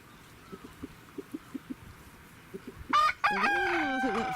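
A rooster crows loudly and close at the end, preceded by a run of soft, evenly spaced clucks or pecking sounds from the backyard flock.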